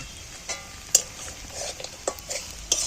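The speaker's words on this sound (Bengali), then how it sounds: "সব জিনিসগুলো আমি তেলের মধ্যে একটু নাড়াচাড়া করে নিচ্ছি ভেজে নিচ্ছি" Cashews are stirred and fried in oil for egg biryani, with a quiet continuous sizzle punctuated by intermittent sharp clinks of a utensil against the pan.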